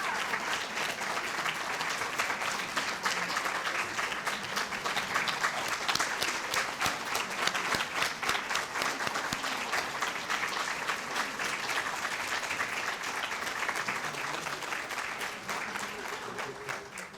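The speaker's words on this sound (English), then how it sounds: "Please give a round of applause for Chi Chi Armstrong" Sustained audience applause fills a volunteer recognition luncheon for an honoree, steady dense clapping lasting throughout at an even level with a faint voice or two mixed in.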